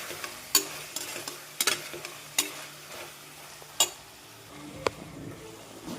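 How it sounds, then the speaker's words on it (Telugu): Chili powder frying in oil and being stirred in a pan, with scattered scraping clicks and short bursts of sizzle over a faint steady background, no talking. "ఆయిల్లో కొంచెం స్మెల్ అనేది పోయే వరకు కొంచెం మంచిగా వేగనివ్వాలి"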